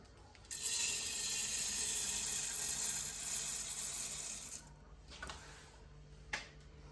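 Dry, overdried sunflower seeds pour out in a dense continuous hissing rush for about four seconds, close and loud, then stop, followed by a few scattered rattles of settling seeds.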